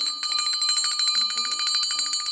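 A bright electronic doorbell chimes steadily for a couple of seconds, loud and close, with no voices.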